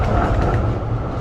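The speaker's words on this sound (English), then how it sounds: "That's one of the more loud trams." A loud Melbourne tram rumbles past close by, a steady heavy rail roar filling the short moment with no talk over it.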